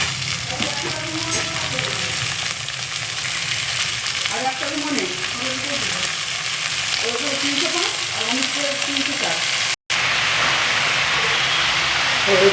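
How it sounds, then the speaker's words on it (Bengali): Leafy greens hit a pan of fried onions and sizzle loudly and steadily while being stirred, with soft scraping and bubbling running throughout, then a brief cut near the end. "এবার আমি শাকটা তুলে দিচ্ছি।"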